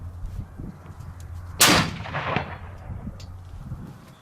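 A single loud Seekins Precision 6.5 Creedmoor rifle shot cracks out during outdoor ammo testing, its sharp report followed by a rolling echo that fades over a couple of seconds.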